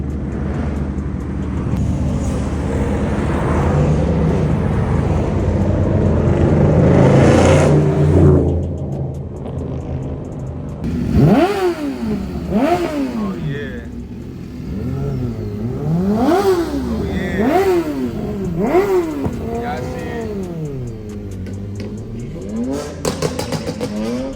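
Lamborghini engine revving at a car meet in a parking lot, a loud close roar followed by a series of sharp throttle blips rising and falling in pitch.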